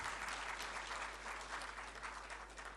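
An audience at a formal courtesy call with the Asantehene and President Mahama applauds steadily, a dense continuous patter of clapping heard at a fairly low level.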